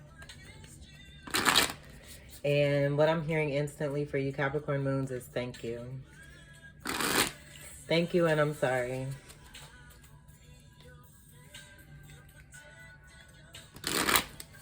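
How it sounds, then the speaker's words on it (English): A Cosmic Tarot deck being shuffled in three short, crisp riffling bursts, each a quick rattling flutter of cards, with someone talking in between. "I'll go ahead and begin shuffling."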